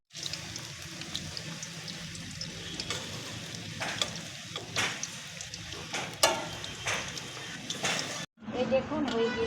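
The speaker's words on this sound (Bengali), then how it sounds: "এবার আমি এই তেলে আবার বড়া ছাড়বো" Sweet pumpkin fritters (misti kumror bora) frying in hot oil, giving a steady close sizzle with stirring clatter and scraping, a brief break near the end, then sizzling again.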